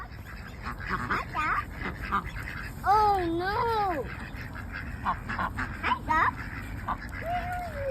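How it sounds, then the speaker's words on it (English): Several nearby ducks quack in short, nasal bursts, some overlapping, while a person speaks briefly over them. "She found the ducks."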